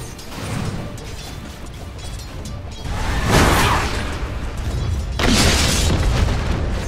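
A defensive tower in Dota 2 comes under attack and collapses, with a running mechanical clatter under two heavy booming crashes, loud and close, the second breaking out near the end.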